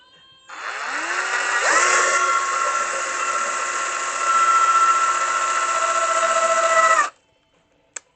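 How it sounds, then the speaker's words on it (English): A power drill boring through wood spins up with a rising whine, then holds a steady high-pitched grinding buzz for about six seconds before stopping abruptly, followed by a faint click. "This wood is so much easier to drill through than"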